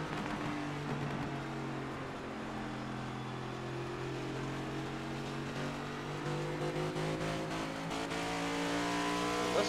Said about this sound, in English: Listen to that throttle rhythm, too, just how subtle and how off pace it is compared to what you would normally hear.